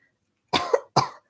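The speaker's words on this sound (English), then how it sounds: "Excuse me, I'm gonna cough." One person coughs twice in close succession, two sharp, fairly loud bursts set against near silence.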